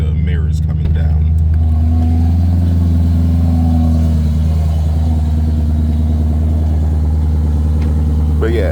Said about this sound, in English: It's a rough startup.